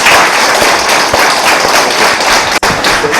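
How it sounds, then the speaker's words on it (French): Applause from an audience at a midwifery school thesis defense in Kpalimé, a dense, steady wash of clapping that fills the whole stretch at constant loudness, with a brief dropout near the end. "Vous pouvez les applaudir."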